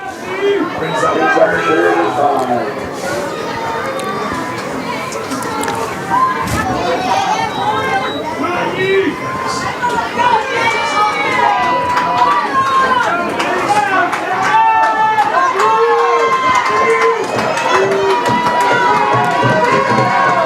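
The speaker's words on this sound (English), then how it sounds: "Their crowd pounding the bleachers, as you can hear." Home crowd in the bleachers at a high school state semifinal football game, a loud continuous roar of stomping, cheering and chatter that stays dense and sustained throughout.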